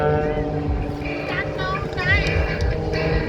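A propeller airplane's engine drones steadily through a flat spin at the Atlantic City airshow, with the pitch wavering and sweeping, while an announcer talks loudly over it.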